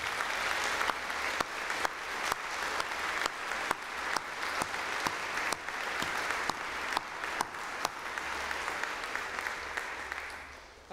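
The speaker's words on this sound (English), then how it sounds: "Let us give her a round of applause." Audience applause fills a school presentation evening, a steady dense wash of clapping from a large crowd that carries on for the whole stretch, with a few sharper claps standing out now and then.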